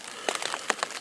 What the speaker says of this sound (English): It's been steadily raining, as you can tell by the pitter-pat.